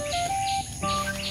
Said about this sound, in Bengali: চারিপাশে পাখির কিচিরমিচির আওয়াজ,